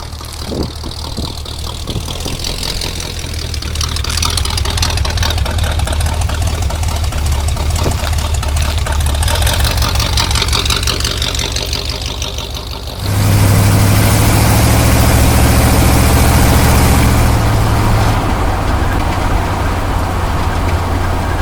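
A 1974 Corvette Stingray engine runs loud and near, a steady rumbling idle that swells through the middle and then jumps to a heavier, louder drone partway through, with no talking.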